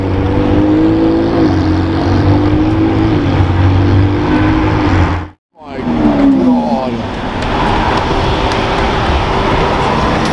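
A Lamborghini Aventador S passes loudly close by, its engine roaring and pitching as it goes, with a brief cutout midway before the revving sweeps back up.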